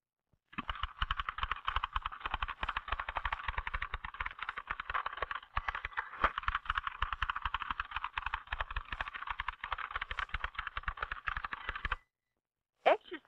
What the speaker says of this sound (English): Finally, there is no spare time left between strokes, and the person is typing as fast as he or she can.